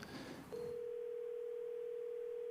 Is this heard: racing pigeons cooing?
no